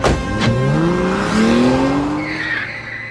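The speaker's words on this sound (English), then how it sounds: "a car screeched to a stop in front of us." Car tires screech loudly in a long rising squeal as a car brakes to a sudden stop, the rubber whine sliding upward in pitch over about three seconds with engine noise beneath.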